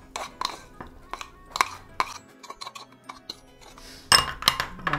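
Garlic stirred together with other ingredients in a bowl with a utensil, a run of light irregular clinks and scrapes against the bowl, growing busier toward the end.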